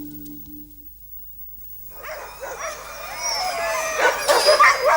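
Alaskan racing sled dogs, bred for racing, break into excited barking, yips and whimpers after a quiet start, the overlapping calls of many dogs building steadily louder toward the end.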